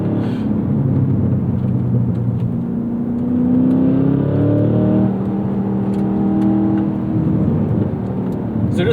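A 2024 Cadillac CT5-V Blackwing accelerates hard, its engine note climbing steadily through the gears as a loud, continuous roar heard from inside the car, with no talking over it.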